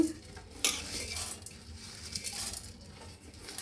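Coriander seeds dry-roasting in a pan for curry leaf powder, stirred with a utensil: soft scrapes and a sharp metallic clink, with faint crackle and light pattering, quiet and close with no talking.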